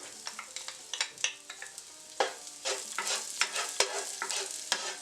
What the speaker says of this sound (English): we just want to warm the garlic through